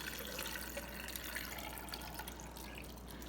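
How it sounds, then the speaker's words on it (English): Brine pours into a jar packed with cucumbers for lacto-fermented pickles, a steady close splashing trickle that runs continuously and fairly quietly without pause. "just add my brine to the jar"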